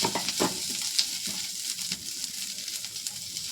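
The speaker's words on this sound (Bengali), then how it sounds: "ঘি দিয়ে কিন্তু কাজু কিশমিশটা ভেজে নেবেন" Cashews and raisins frying in ghee with cumin, a soft crackling sizzle close by with light stirring scrapes in the pan, no voices.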